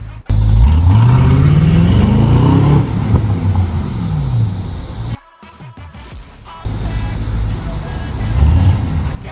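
An Aston Martin DBX pulls away with a loud, deep exhaust note that climbs as it accelerates, briefly drops off at a shift, then resumes, heard from close by.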